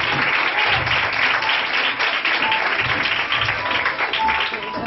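An audience at a school quiz contest applauds the competing students: steady, dense clapping from many hands, held at an even level for the whole stretch without a break.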